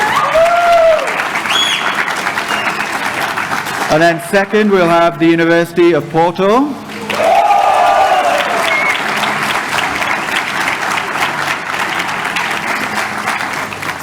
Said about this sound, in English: Yes, well, everybody clap. I'll have everybody clap.